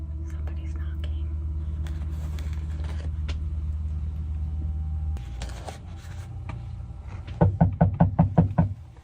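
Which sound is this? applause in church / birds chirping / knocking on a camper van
knocking on a camper van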